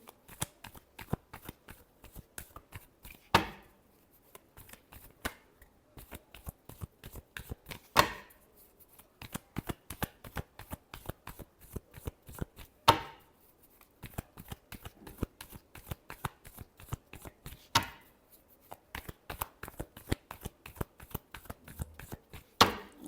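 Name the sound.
shuffling tarot cards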